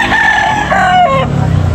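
Close, loud crowing from a rooster rings out at a crowded chicken market in Tabunok, Talisay, a single call that falls in pitch before fading into market noise.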